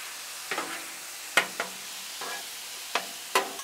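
Cheese melting on a hot Blackstone flat-top griddle beside spicy Mexican pasta, with a steady low sizzle broken by several sharp scraping and tapping spatula strokes spaced across the moment, close and moderately loud with no talking.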